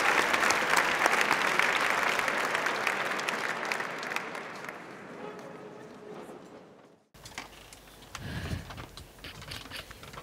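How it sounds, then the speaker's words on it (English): Audience applause at a school event, presented for a girls' college drama production: dense clapping that thins and fades over several seconds, then stops abruptly, followed by quieter room sounds. "Let's give them a round of applause"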